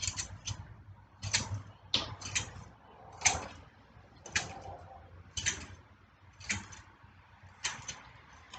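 Safety wire pliers twisting and pulling steel safety wire give repeated sharp metallic clicks and ratcheting ticks, about a dozen bursts in uneven rhythm, close and moderately loud, with no talking.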